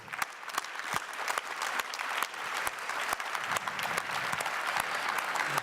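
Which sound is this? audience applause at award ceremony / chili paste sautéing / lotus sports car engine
audience applause at award ceremony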